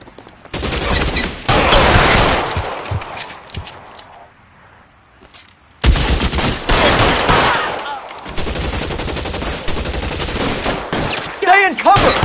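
Bursts of gunfire in L.A. Noire, loud rapid volleys that stop for a brief quiet stretch and then resume with heavy shots, with brief voices among them.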